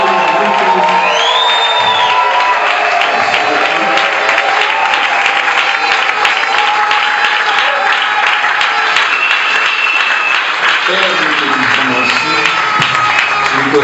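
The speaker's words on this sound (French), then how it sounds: "Acclamons le Seigneur Jésus." A large church congregation at a celebration of the name of Jesus in Kinshasa cheers, whoops and applauds to acclaim Jesus, a loud dense roar of clapping and shouting that carries on without a break.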